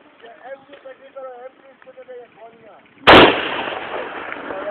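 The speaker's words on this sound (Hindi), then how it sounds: "चल जल्दी जल्दी फायर कर जल्दी जल्दी चल।" In a video game, a single sharp, loud gunshot or blast cracks out and rolls into a sustained rumble, following a few seconds of people talking.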